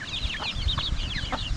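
Young chickens raised at home cluck and chatter continuously, several birds calling in overlapping short notes nearby over steady low background rumble.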